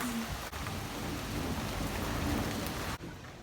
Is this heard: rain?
yes